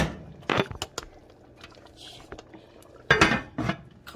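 A spoon clanks and scrapes against a pot while oxtail is stirred on the stove, with a few sharp metallic knocks near the start and another cluster of clatters near the end.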